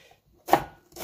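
Half an onion chopped with a knife on a board, two sharp close knocks spaced about half a second apart, alone.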